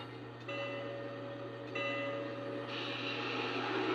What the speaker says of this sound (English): here is our train.